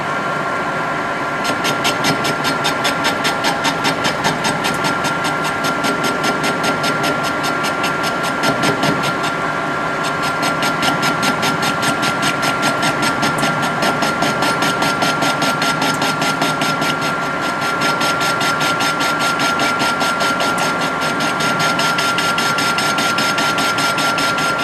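A metal lathe takes an intermittent facing cut on steel with an insert tool, the workpiece held in a steady rest, giving a loud, steady machine drone with rapid repetitive ticking from the interrupted cut throughout.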